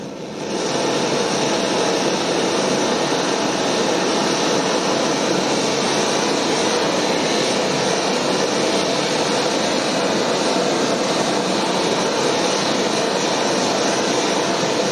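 A simple propane torch roars steadily and loudly throughout, a constant broadband rush as it melts metal in a ceramic crucible for casting a ring, with no talk.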